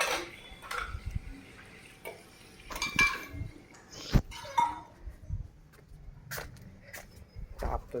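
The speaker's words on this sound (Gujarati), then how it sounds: "કાકી વાસણ મૂકે છે." Metal kitchen utensils being set down at a home in Anand, Gujarat, giving scattered sharp clinks and clatters over about eight seconds, fairly faint against a steady background hiss, with a few louder knocks near the middle.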